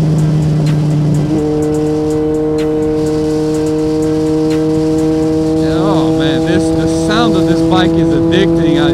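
A 1980 superbike engine roars loud and close, its steady drone climbing in pitch under hard acceleration and then swinging up and down as the revs rise through the gears.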